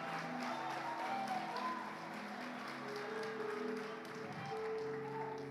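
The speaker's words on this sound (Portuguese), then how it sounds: "Aplauda Jesus se é para Ele." A church congregation applauds during a sermon, with muffled, distant clapping spread across the room and merging with a reverberant hum and tonal background sound.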